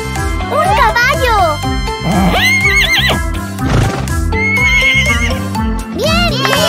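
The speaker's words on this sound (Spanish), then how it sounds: "¡Un caballo!" A toy horse from a surprise egg neighs and whinnies in several loud bursts, mixed with music-like tones and someone speaking excitedly over it.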